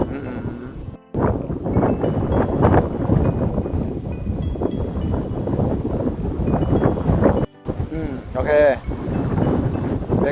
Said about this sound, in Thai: สายลมกับทุ่งหญ้า